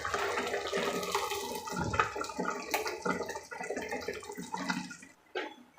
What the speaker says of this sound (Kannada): ಮಸಾಲೆ ಹಾಕಿ ಜಾರ್ ತೊಳೆದಿದ್ದ ನೀರು ಕೂಡ ನಾನು ಇದಕ್ಕೆ ಹಾಕ್ಕೊಂಡಿದ್ದೀನಿ